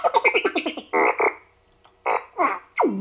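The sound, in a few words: R2-D2 fart sound effects from an RC sound system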